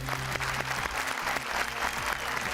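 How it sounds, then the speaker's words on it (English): A studio audience at a celebrity spelling bee show bursts into steady applause welcoming the contestants, dense clapping sustained throughout over a low musical hum. "let's welcome today's stellar spellers with some thunderous applause"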